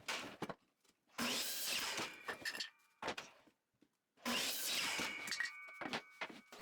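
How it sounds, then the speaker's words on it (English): Miter saw cutting a 2x4 wood board: two long, loud bursts of bright, harsh sawing noise, each roughly two seconds, with brief knocks and handling sounds between them and no talk. "I measure it, then cut on the miter saw."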